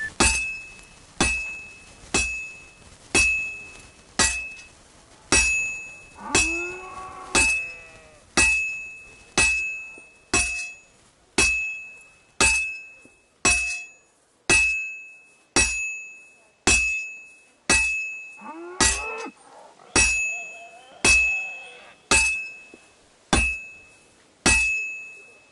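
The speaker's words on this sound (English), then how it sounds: "I have to hammer it more evenly." Hammer strikes on metal at a smithy forge in Kingdom Come Deliverance 2, a steady series of bright, ringing clinks at roughly one-second intervals, each decaying quickly, with faint rustling in between.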